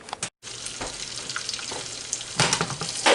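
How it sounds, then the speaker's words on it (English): Onions frying in a pan, a steady hiss and crackle close by with a brief break near the start and a louder burst of sizzling toward the end. "In our pan here, I have the onions."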